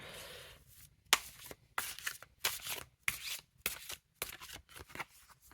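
Cards are riffled and shuffled in quick bursts, a dozen or so short papery rustles and snaps close by, with brief pauses between them.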